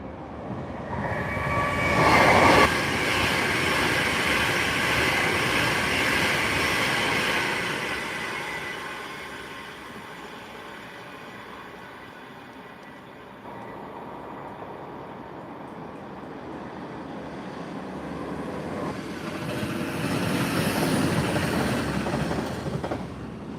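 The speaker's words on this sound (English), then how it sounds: "That was a train going to Glasgow and a train going to Manchester Airport" Two trains pass on a main line, one of them a diesel, one heading for Glasgow and one for Manchester Airport. A loud, sustained rumble with wheel clatter swells, eases off mid-way, then builds again as the second train goes by close.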